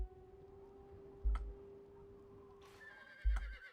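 A horse neighs in a medieval strategy video game tournament match as horse archers ride out. A short whinny rises near the end amid soft game tones and two dull thumps.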